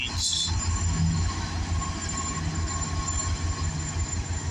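A slowing CN freight train with a rear distributed-power locomotive rumbles past nearby with a low steady mechanical drone and clattering wheels, a brief high squeal at the start.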